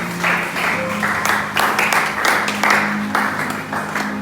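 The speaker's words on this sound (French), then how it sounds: "Nous allons reprendre nos places en acclamant pour Dieu." A church congregation claps together for God, a dense burst of applause with a rough, pulsing rhythm that carries steadily throughout at close range.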